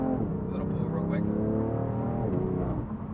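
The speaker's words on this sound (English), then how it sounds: "Have to put them brakes to work" BMW F80 M3 braking hard from speed, a steady dense engine and road roar holding through the stop with a slight dip near the end, while someone talks over it.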